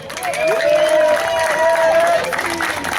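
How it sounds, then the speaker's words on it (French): Loud applause from an audience at a year-end televised show, a broad wash of clapping and crowd noise with a voice speaking over it and a tonal whistle-like line running through. "Et on l'applaudit trop fort."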